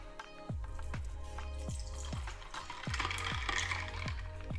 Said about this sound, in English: and then pour in our 400 mils of water.